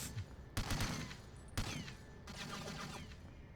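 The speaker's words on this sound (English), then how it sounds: "I hear people shooting." Gunfire in the video game 007 Everything or Nothing: a few sharp shot bursts at irregular intervals, fairly faint and distant, over a steady game background.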